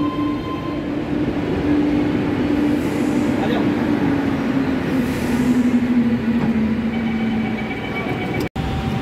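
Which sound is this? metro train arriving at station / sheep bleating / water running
metro train arriving at station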